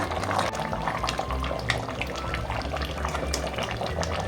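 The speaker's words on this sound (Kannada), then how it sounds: "ಸ್ವಲ್ಪ ನೀರು ಹಾಕ್ಕೊಳ್ಳೋಣ" Water pouring into a cooking pot of head and trotter saaru, a continuous close splashing and gurgling rush with faint bubbling underneath, steady throughout with no speech.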